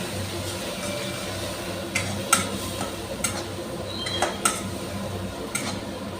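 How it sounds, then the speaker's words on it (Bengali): Spice paste of turmeric and chili powder frying in a pan for a Bengali fish curry with drumsticks, giving a steady low sizzle broken by occasional light clinks and scrapes of stirring. "দিয়ে আবারও মশলাটাকে খুব সুন্দরভাবে কষিয়ে নিচ্ছি"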